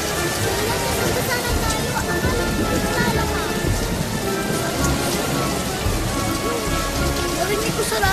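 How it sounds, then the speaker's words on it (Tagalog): Rain pours in a steady, dense wash of patter with no break, thick and close all the way through, mixed with background activity. "di pa naman malakas yung ulan eh"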